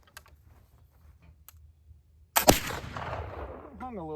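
A black powder charge made with Wonder Bread goes off in a single sharp, loud blast that tails off into a long rumbling hiss. Quiet clicks and faint sounds come before it.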